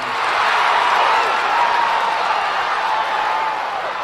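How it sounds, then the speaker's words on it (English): A large stadium crowd roars steadily at an opening day race in a Cars video game, a broad continuous wash of cheering and distant clapping that holds level throughout. "Oh yeah, this is a great opening day crowd."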